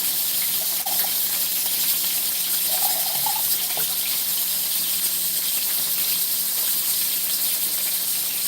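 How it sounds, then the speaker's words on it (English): A pressure cooker hisses steadily while cooking bones in a kitchen, a continuous bright steam noise running alone throughout with a few faint clicks. "Pressure cooker is working for the bone."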